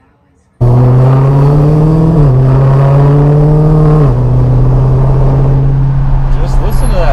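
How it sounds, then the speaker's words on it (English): A Dodge Challenger engine starts up abruptly and revs loudly and steadily, its pitch rising and dipping a couple of times, close by with no talking. "Just listen to that engine."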